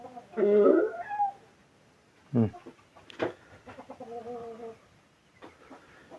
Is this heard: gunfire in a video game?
no